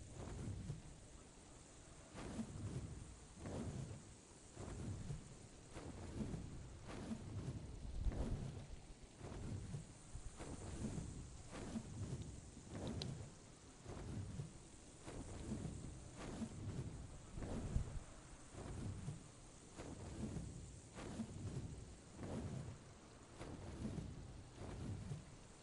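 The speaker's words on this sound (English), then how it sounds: "Perfect time for a heat storm when it's the brightest time of the day." Heat-storm weather in the video game Ark: steady rain hiss with repeated low thunder rumbles rolling in every second or two, loud and continuous throughout with no talking.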